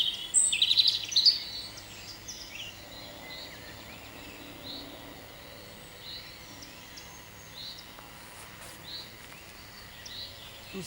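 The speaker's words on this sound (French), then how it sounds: "On écoute les petits oiseaux." Small birds chirp and tweet at a distance, with a brief burst of song early on, then sparse calls over a quiet outdoor background.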